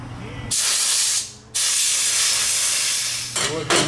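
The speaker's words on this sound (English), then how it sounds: "we're going to go ahead and spray some brake clean down in here, get this nice and clean" Brake cleaner sprayed from an aerosol can down into a disassembled motorcycle fork on a Yamaha YZ250FX during a fork seal job: two long, loud, close hissing bursts with a brief pause between, then short spurts at the end.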